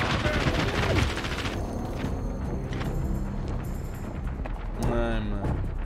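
Gunfire in the first-person shooter CrossfireX, rapid automatic bursts and booming shots that run almost continuously at high volume, with someone talking over the action.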